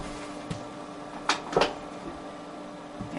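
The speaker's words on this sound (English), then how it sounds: "I have removed the knob that tightens down the table to lock it in place, and now it should, there we go, easily slide away." The table of a scroll saw slides off once its lock knob has been removed, making a short double scrape and thump at close range over a faint steady hum, with no talking.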